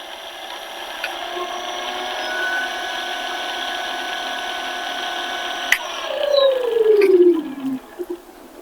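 An electric motor spins with a steady tonal whine, then a sharp click as it switches and the pitch sweeps downward and quickens, followed by a few rattling knocks at the end; no speech.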